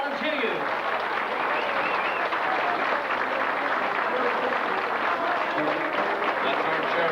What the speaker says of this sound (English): Nice big round of applause for Johnny Joe.